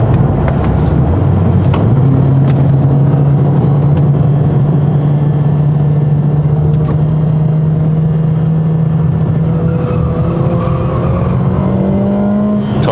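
A Mercedes-AMG CLA 45 S engine drones steadily and loud from inside while driving, with a low exhaust hum that climbs gradually in pitch as it accelerates, then a further rise near the end, with road noise underneath.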